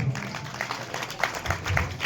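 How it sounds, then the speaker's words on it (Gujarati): Crowd applause at a village welcome ceremony for a sarpanch, with scattered, uneven clapping rising and falling over roughly two seconds and a few sharper claps standing out. "જોરદાર તાળીઓ ફરીથી વગાડશો"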